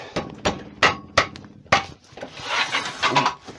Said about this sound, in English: Right, here, round it off. Nice rough rounding off. It's cutting beautifully.